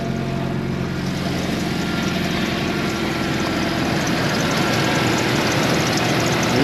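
A cheap Jeep YJ engine idles steadily, a continuous low rumble with a broad mechanical hum that holds at an even, fairly loud level throughout with no talk.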